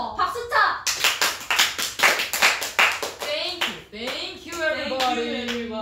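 Quick, bright hand claps in a steady rhythm from a small group of K-pop idols at a live-stream countdown party, close and loud, with speech and laughter around and over the clapping.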